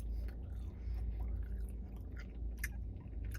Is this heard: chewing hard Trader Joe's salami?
yes